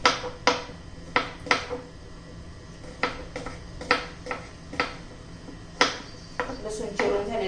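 Garlic chopped finely with a knife on a cutting board, a steady run of about fifteen crisp, close knocks in an uneven rhythm over a low background hum.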